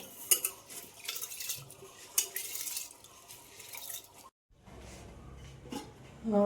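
Dosa ingredients rinsed with water in a kitchen vessel, with sloshing splashes and metallic clinks of the pot, then a short pause and quieter swishing.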